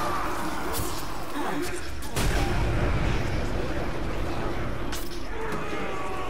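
Gunfire in the video game Middle-earth: Shadow of Mordor, sharp booming shots spread through the clip, a few louder bursts among steady background game noise, with someone talking over it.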